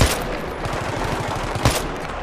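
Rapid machine-gun bursts ring out from Battlefield 3 gameplay, a steady fast stutter of shots running throughout with a louder crack near the end, no talking.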